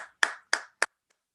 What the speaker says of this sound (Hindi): जोरदार तालियां सारे सिल्वर लीडर्स के लिए।